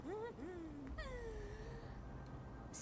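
A female character in the video game Honkai Star Rail gives a pair of soft, rising, cat-like meows, followed by a longer drawn-out voiced tone over quiet game background.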